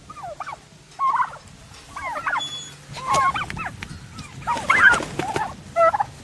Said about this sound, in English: Here's turkeys.